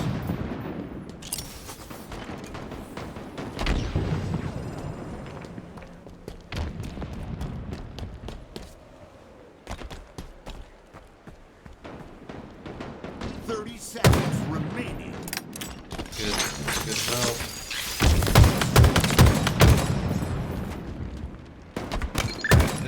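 Gunfire and grenade blasts in the Halo video game during a ranked doubles match: rapid shots, bursts and booms layered under continuous commentary talk, growing denser and louder toward the end.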